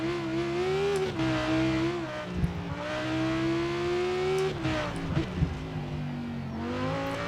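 A tuned rear-wheel drive car in Forza Horizon 4 hums along with a steady engine drone that rises and falls through gear changes, punctuated by scattered exhaust pops and crackles on lift-off.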